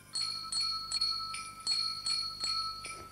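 Bells made from Canadian toys, played by pupils in a school music department at Robertsbridge Community College, ring out in a steady series of about eight bright, clear metallic strikes, each note sustaining briefly before the next.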